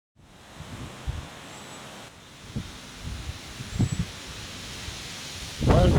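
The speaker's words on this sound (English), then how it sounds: "Well, did I mention that it's windy today?" Gusty wind blows across an outdoor garden, with low rumbling buffets and a soft rustle of plants rising and falling, and a stronger gust swelling near the end.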